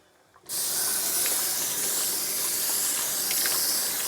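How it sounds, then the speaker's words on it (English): Water runs steadily into a kitchen sink full of dishes being washed, a loud continuous hissing spray that starts abruptly after a brief quiet moment and keeps going with no talking. "I'm just going to take a minute and get some of these dishes washed up"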